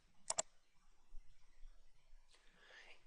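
Computer mouse clicking during a screen recording, a quick double click near the start, very close and crisp, then near silence with a faint breathy rustle.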